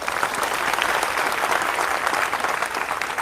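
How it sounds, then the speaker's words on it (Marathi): A crowd claps loudly and continuously, dense overlapping applause without a break. "एकदा जोरदार टाळ्या"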